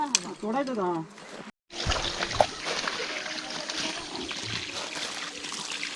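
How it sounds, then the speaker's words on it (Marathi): Water being splashed onto a laterite stone shed under construction in a village garden, with close splashing and trickling after a brief pause, while voices talk over it. "पाणी मारतोय पण जेवढं पाणी मारेल ना तेवढं चांगलं आहे"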